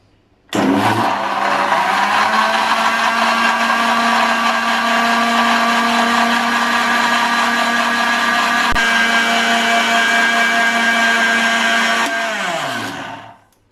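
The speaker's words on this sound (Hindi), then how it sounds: "अब इसको 2 से 3 मिनट तक ब्लेंड कर लेंगे ताकि जो बादामों की अच्छी सी पेस्ट बन जाए" A blender runs steadily, whirring loud and constant for about twelve seconds while blending almonds with a little milk into a thick paste, starting abruptly and winding down at the end.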